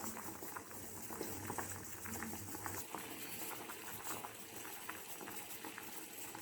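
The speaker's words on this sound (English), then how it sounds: "our rasgullas are happily boiling in the sugar syrup" Sugar syrup with rasgullas bubbles at a steady, gentle boil, with soft popping and pattering throughout, close by and fairly quiet.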